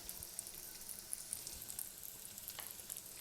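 Two beaten eggs frying in a hot pan for an omelette, a faint steady sizzle with soft crackles and a light scrape of stirring.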